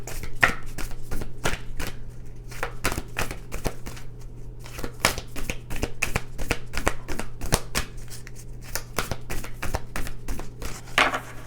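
A deck of tarot cards is shuffled by hand in a quiet room, producing rapid, crisp riffles and snaps in an irregular rhythm, close and continuous over a low steady hum.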